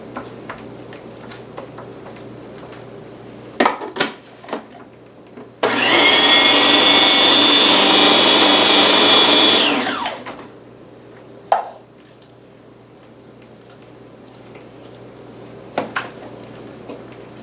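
A food processor pulses a ham salad as the last of the dressing is blended in, giving one loud, steady whir of about four seconds. Brief clicks and knocks sit before and after it in a quiet kitchen.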